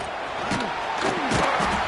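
Football stadium crowd roaring at the start of the second half, a continuous broad wash of cheering and shouting that swells in waves, loud and distant-sounding throughout.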